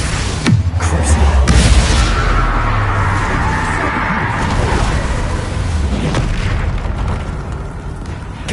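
Confringo and Bombarda spell blasts in Hogwarts Legacy, loud booming explosions with deep rumbling tails rolling one into another through a dense, continuous din.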